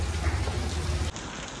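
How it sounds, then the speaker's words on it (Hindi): Heavy rain pours steadily as a dense, continuous hiss that stays close and loud throughout, then drops slightly in level near the end while still falling. "बारिश रुकने का नाम ही नहीं ले रहा"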